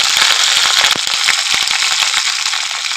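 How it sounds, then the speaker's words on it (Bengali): Taro (kochu) fries in hot oil in a pan, giving a loud, steady sizzle with crackling pops throughout and no one speaking. "কচুটা আমি দেখো কিছুটা ভেজে নিয়েছি"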